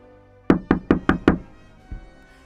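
Five hurried knocks on a mansion door by a horseman, sharp and close in a quick even run, followed by a fainter thud.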